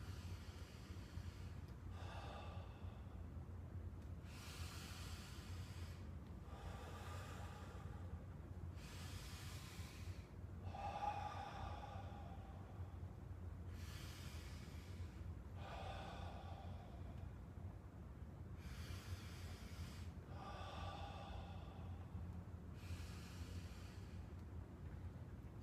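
Loud, slow, deliberate breaths repeat in even cycles during a relaxation breathing technique, each long hissing inhale and exhale close up against a low steady hum, with no talking.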